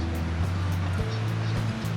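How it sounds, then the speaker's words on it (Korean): Sea waves at night on the beach at Nha Trang, Vietnam, a steady soft wash of surf beneath a low engine-like hum from the beachfront road, continuous across the short moment. "이 바다 소리 들으면서 여행객들이랑 현지인들이랑 밤바다를 만끽하는 느낌?"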